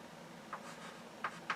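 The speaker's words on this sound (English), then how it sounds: "let me go ahead and write that down" Short, quiet strokes of writing on a board during a math lecture, three quick scratchy marks within about a second, close and with no talking.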